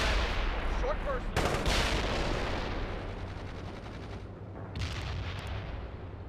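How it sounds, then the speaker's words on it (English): Gunfire and artillery blasts in the World in Conflict war game as an enemy force fires on a rifle squad: a continuous, rumbling barrage with sharp bursts and heavy booms, fairly loud, with faint radio-style voices underneath. "They're firing at us"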